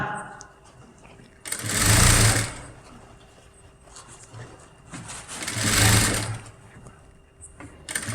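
A sewing machine stitches a garment neckline along the edge in two loud bursts of running, each about a second and a half long, separated by quieter handling noise with soft speech underneath.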